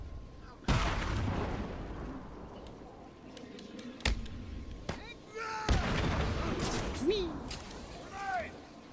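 Grenade blasts go off in the video game Batman Arkham City: several sharp, loud booms at uneven intervals, each with a rumbling tail, mixed with character voices and other game sounds.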